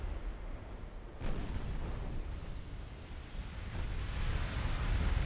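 Warship guns in a 1946-era Ultimate Admiral: Dreadnoughts naval battle fire on enemy transports, giving a distant, muffled boom followed by a low, rolling rumble that carries on beneath steady sea-like noise.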